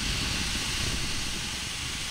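A steam locomotive in the Derail Valley train simulator dumps its steam, giving a loud, continuous broadband hiss that holds steady throughout, close up and with no voices.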